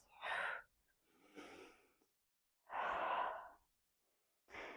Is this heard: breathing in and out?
yes